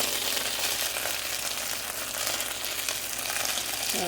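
Mystery-meat fried rice with soy sauce is stir-fried in a pan, giving a dense, even sizzle that hisses loudly and continuously with no talk over it.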